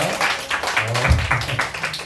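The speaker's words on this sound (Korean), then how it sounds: "박수로 환영하겠습니다" A church youth-group audience applauds to welcome a new middle-school student, with quick, scattered claps spread across the moment at moderate distance and no voices over them.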